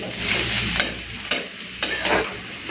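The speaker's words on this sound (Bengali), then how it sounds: "তো এখন দিয়ে দিচ্ছি পেঁয়াজ কুচি" Chopped onions fry in a pan for egg curry, a loud steady sizzle broken by three sharp spoon scrapes or clinks while they are stirred, with no talk.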